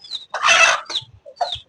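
A hen clucks agitatedly in short bursts, loud and close, fighting a person after her chicks were penned with a cockerel, with a few harsh squawks and low thumps between calls.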